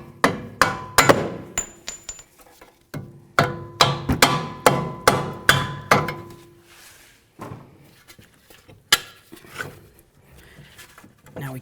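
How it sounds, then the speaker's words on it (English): A rubber mallet bonks a strut bolt on a 2007-2017 Jeep Compass front strut and spring assembly, a rapid series of about a dozen sharp close knocks followed by a few scattered taps. "A couple loving bonks with our rubber mallet."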